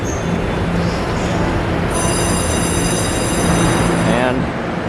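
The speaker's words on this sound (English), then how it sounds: "my train is already here because it's waiting for the faster express train to pull through" A local train in Taiwan rolls into a station, with a steady rumble and a high sustained whine that fades as it slows, while people talk nearby.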